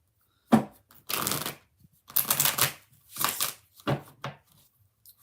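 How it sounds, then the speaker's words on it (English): Tarot cards being shuffled up close: several brisk riffling bursts separated by short pauses, crisp and papery. "4 more shuffles."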